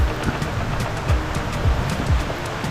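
A river swollen by heavy rain in the hills of St Thomas, Jamaica, rushes in a continuous loud roar, with occasional surges and splashes rising over the steady flow.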